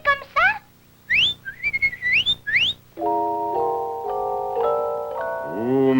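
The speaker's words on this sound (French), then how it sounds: "Il vous faut siffler comme un oiseau, siffler haut, clair et joyeux" A person whistles like a bird, high, clear and cheerful, first in short chirping trills, then in longer sustained tones climbing in pitch, close and alone without talk.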